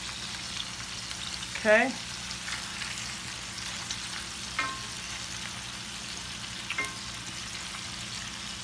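Hamburger patties for Salisbury steak fry in a pan, a steady close sizzle with a few scraping flips and clinks; a voice speaks briefly.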